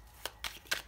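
Playing or fortune cards being shuffled by hand, three quick papery riffles in succession, close and fairly soft, with no talking.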